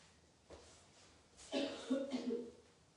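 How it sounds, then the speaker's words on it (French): A few soft coughs come in quick succession, faint and close, with a throaty rasp and quiet pauses between them. "pourquoi tu tousses?"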